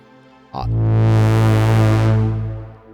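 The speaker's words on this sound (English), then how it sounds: "I'm taking the distortion drive with the mod wheel, but I'm also taking the dry wet of the shimmer." A sustained, harmonically rich Arturia Pigments 4 software synthesizer chord enters abruptly, gritty with mod-wheel-driven distortion and a shimmering reverb wash, swelling then slowly fading.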